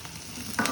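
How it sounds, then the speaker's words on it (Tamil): Curry leaves crackle and sizzle briefly in hot oil, a soft frying hiss with a small burst of spatter near the end. "கறிவேப்பிலை. இது நல்ல பொன் வறுவலாக வரணும்."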